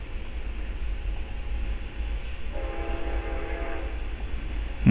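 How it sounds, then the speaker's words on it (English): A train rolls past nearby with a steady low rumble and broadband rail noise throughout, tonal squeal or horn-like bands rising in the second half, and the level swelling toward the end. "I gotta let this train go by before we do any serious listening."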